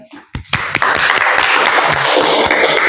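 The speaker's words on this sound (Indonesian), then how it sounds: "Boleh tepuk tangan dulu untuk Gibran" A high school class in Semitau claps for a student named Gibran, a few sharp individual claps first, then a dense, loud burst of close applause that keeps going.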